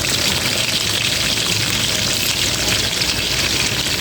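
Chopped onions sautéed in a pan with garlic for a Filipino ginisa stir-fry, giving a steady, close, even sizzle that holds for the whole stretch with no talking.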